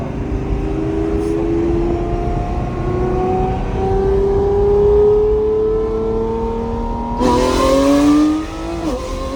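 A 1,000-horsepower McLaren supercar engine revs and accelerates loudly and close by, climbing steadily in pitch through several seconds, then a sharp gear change brings a sudden burst of harsh exhaust noise.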